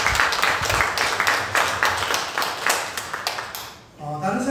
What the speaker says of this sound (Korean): 우리 박수로 축하하고